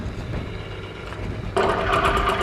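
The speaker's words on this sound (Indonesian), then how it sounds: "Kita nyalakan mesinnya" A steady low mechanical hum runs, then a motorbike engine running Quasar P2 motor oil catches abruptly and settles into a louder, buzzing idle.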